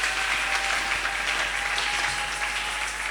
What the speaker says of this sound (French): Acclamons très fort pour les sœurs.